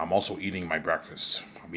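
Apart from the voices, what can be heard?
No everyday noise stands out behind the speech.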